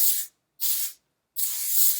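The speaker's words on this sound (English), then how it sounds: "I'm just going to spray my whole head" Three bursts of aerosol hairspray, two short sprays and then a longer one, close and fairly loud with silent pauses between them.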